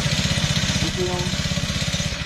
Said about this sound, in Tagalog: An engine ng grass cutter.